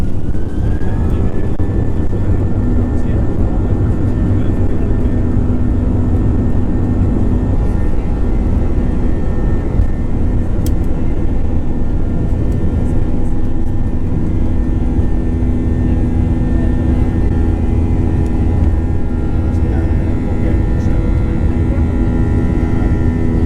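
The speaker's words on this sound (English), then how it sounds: "we're finally about to take off" Finnair airliner engines during takeoff from London Heathrow to Helsinki, heard from inside the cabin as a loud, constant roaring drone with a low steady hum that fills the whole stretch.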